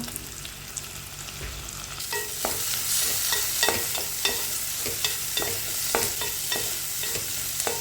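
Onion with curry leaves and crushed ginger and garlic sizzles steadily in a pan for a potato curry, with repeated scraping stir strokes clattering through the continuous frying hiss, no talking.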